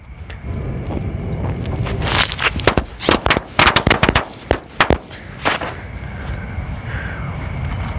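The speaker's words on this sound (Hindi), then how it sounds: "बिजली बम की लड़ी को देखते हैं किस तरह धमाका रहता है" A long string of Durgesh brand bijli bomb firecrackers bursts during Diwali testing in a rapid, uneven crackle of sharp loud bangs, trailing off into scattered pops against outdoor background noise.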